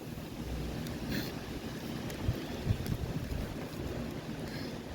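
Strong wind buffets the microphone outdoors, a steady loud roaring rumble with occasional gusts and faint brief sounds over it.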